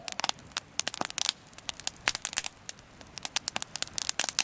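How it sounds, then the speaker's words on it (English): A campfire crackles and pops at a Sasquatch-country campsite in June, with sharp irregular snaps in close succession at moderate loudness and no talking. "Nothing like the sound of a crackling fire."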